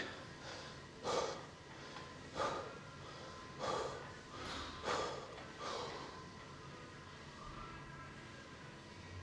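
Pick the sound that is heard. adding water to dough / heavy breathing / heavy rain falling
heavy breathing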